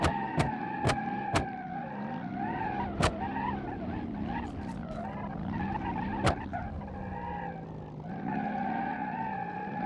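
Rear-wheel-drive car in BeamNG.drive on a proving ground, its engine droning steadily with rising and falling pitch as the rear wheels spin under light throttle, punctuated by several sharp clicks.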